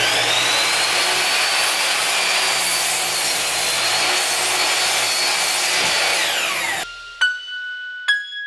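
A wood board for a barn door being cut with a power saw, a loud continuous whining cut for several seconds that stops abruptly, followed by a few sharp knocks of wood.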